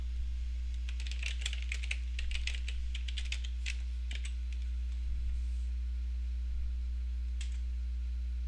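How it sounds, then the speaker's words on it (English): Computer keyboard being typed on while entering login details, a quick cluster of close clicking keystrokes followed by sparse taps and long pauses, over a steady low electrical hum. "it pops up and it asks us for our username and password, and we'll enter that here."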